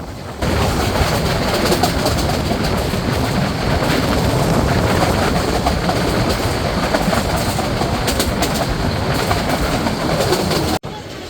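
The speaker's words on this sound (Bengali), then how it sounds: "আমরা Sitakunda railway station through pass করে যাচ্ছি" The Parjotak Express rolls through Sitakunda railway station without stopping, a steady loud rumble of wheels and clattering carriages heard from on board, continuous and close.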